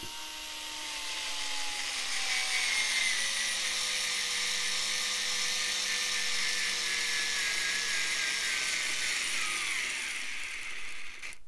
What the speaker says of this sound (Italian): vediamo se sul legno però riesce ad avvitare quindi senza preforo facciamo una prova velocissima